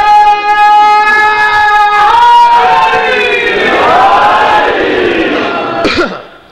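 Crowd at a religious gathering chanting a slogan in unison, loud sustained voiced tones that swell and shift pitch together, ending in a sharp burst.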